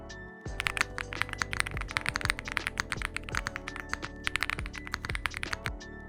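Steady, brisk typing on a Womier SK75 mechanical keyboard, with crisp individual key clacks in quick irregular bursts, close and clear, no voices.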